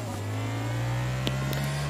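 A motorbike engine in the mobile racing game Traffic Rider holds a steady, droning whine at top speed, its pitch creeping slightly upward with a few faint clicks over a constant low hum.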